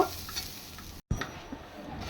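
Onions fry in hot oil with a continuous close sizzle and stirring, broken by a brief moment of silence before the sizzle resumes.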